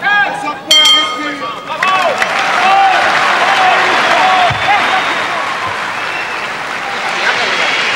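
A boxing arena crowd cheers and applauds after a round, a loud sustained roar of clapping and shouting, with a bell-like clang near the start.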